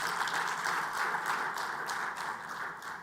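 Audience applause at a cybersecurity launch event in Africa forms a steady wash of many hands clapping, moderately distant and sustained for about three seconds without speech.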